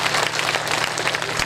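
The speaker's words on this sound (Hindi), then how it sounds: "जोरदार तालियों से स्वागत करें आप" An audience at a religious discourse gives a spiritual speaker a welcome with loud, dense applause, many hands clapping steadily throughout the short moment with no pause.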